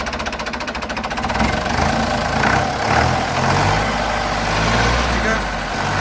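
A tractor's diesel engine with incorrect timing runs steadily up close with a rough, rapid knocking clatter, the low rumble continuous throughout.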